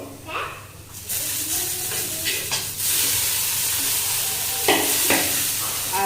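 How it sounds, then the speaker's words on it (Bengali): Potatoes fry in a pan with a steady, loud sizzle and hiss, while a spatula stirs them with occasional scraping strokes, close up and continuous throughout. "কবিতা শুনতে শুনতে আলুটাও ভাজা হয়ে গেছে এখন ঘিমে শাকগুলো দিয়ে দেবো"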